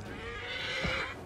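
A single horse whinny rises and falls over about a second, close and fairly loud against a dense sound backdrop in a fantasy role-playing game.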